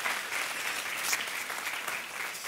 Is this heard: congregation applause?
yes